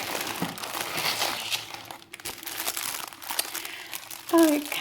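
Plastic packaging from a small online-marketplace haul being torn open and handled, giving a steady near crinkling and crackling rustle that runs through the whole stretch with brief pauses.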